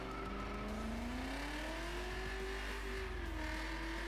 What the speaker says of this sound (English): does this car do a burnout?